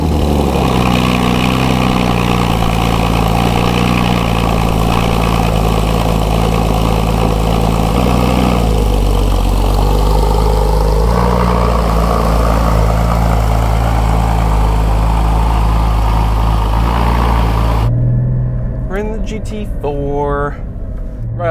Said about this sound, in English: Let's take out the GT4 first.